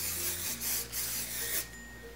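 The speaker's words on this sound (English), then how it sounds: "I like to spray it when it's actually upside down." Hairspray hisses from an aerosol can onto hair held upside down during curling, several close bursts in quick succession, each a sharp airy spray, with no voices.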